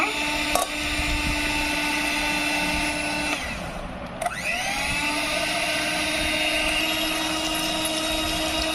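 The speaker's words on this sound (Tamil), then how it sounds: "இதை பீட்ரு வச்சு நம்ம அப்படியே பீட் பண்ணிக்கலாங்க" Electric hand beater whisking two eggs for a cake batter in a bowl, a steady continuous motor whine that holds throughout with a brief dip in pitch midway, close and alone with no talking.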